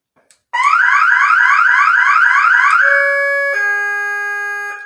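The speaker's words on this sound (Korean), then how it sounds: "아주 소리가 큰 알람을 사세요" A loud home security alarm paired with motion detectors blares nonstop, first warbling in a rapid repeating sweep and then switching to a steady piercing multi-tone wail for several seconds.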